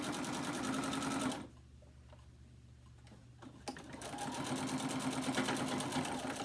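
A sewing machine stitches a mini quilt in two loud runs of rapid, even needle chatter. They are split by a quieter pause of about two seconds with a faint click, and the machine is heard close up with no talking.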